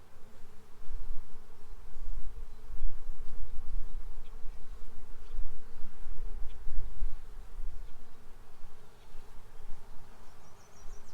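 Honeybees buzzing in an opened hive during an inspection, a dense, droning hum close by that swells and fades as the colony stirs, with no talking.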